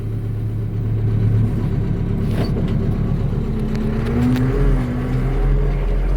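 A tractor drives across a field with its cultivator lowered into the soil, giving a loud, steady engine drone and rumble close by with no talk.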